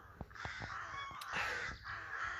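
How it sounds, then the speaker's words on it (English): Several crows caw in a scattered chorus outdoors on a quiet rural road, sharp harsh calls coming in quick irregular bursts over soft background hiss, fairly faint and somewhat distant. "A chorus of beautiful crows."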